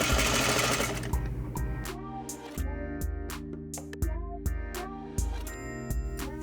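A sewing machine stitching around the edges of a trouser pocket lining, rapid mechanical whirring in several short bursts separated by brief pauses and clicks.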